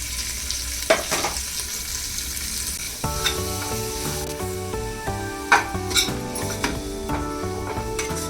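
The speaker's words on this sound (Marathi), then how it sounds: "थोडंसं परतून घेणार आहे पावभाजीमध्ये बीट टाकल्याने पावभाजीला छानपैकी कलर येतो" Cauliflower, potato, carrot and beet sautéing in a pan for pav bhaji, a loud steady sizzle with repeated spoon scrapes and stirring knocks against the pan, close up and without speech.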